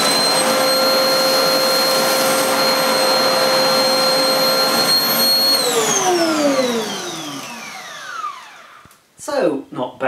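A Hoover Spritz bagless vacuum cleaner runs loud and steady on a floor with a high motor whine, then spins down with a falling pitch as it switches off, followed by a few brief handling knocks.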